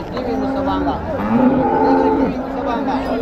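A cow at the Vaniyambadi cattle market moos loudly and close by, a long drawn-out low call lasting several seconds.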